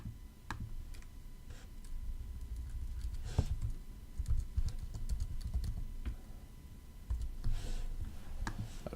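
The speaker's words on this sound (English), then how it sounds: "we're just gonna type calculator here" Keystrokes on a computer keyboard, a quick run of close, crisp clicks and taps with short pauses between bursts, alone without talk.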